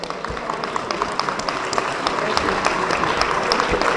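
Crowd at a lawyers' political convention in Lahore claps loudly, a dense, continuous burst of applause that stays strong for several seconds with scattered sharp claps on top.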